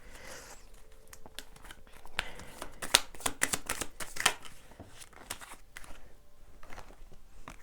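Tarot cards being shuffled by hand, a run of crisp, riffling paper flutters and soft slaps in quick bursts, close and fairly quiet with no talking over them.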